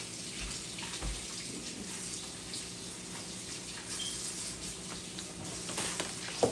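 Water poured into a tomato-based meatloaf glaze in a home kitchen, a steady, close running-water wash lasting several seconds with no talking.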